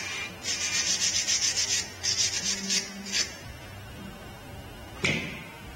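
Brush strokes scrubbing anti-corrosion compound onto a Ford Fiesta 2004 rear brake drum: a series of quick, close scratchy rubs in short runs, then a single sharp tap near the end.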